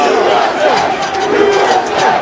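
A large crowd of Trump supporters shouting and roaring at the Capitol, a dense, continuous wall of voices with surging battle-cry yells, loud and close throughout.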